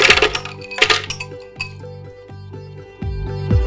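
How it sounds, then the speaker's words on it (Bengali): Crushed ice clinks and rattles into a glass for a pink lady mojito, several bright chinks and tumbling knocks close up, with no talk. "দিয়ে দিচ্ছি বরফ কুচি"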